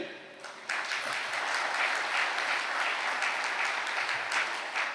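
Loud applause from an audience at a Catholic priest's sermon, a burst of clapping that starts abruptly and continues steadily, dense and sustained throughout.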